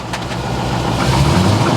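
An abandoned Corvette ZR1 engine idles roughly and unevenly, as if running on fewer than eight cylinders, a loud close throb with a wavering, fluttery pulse.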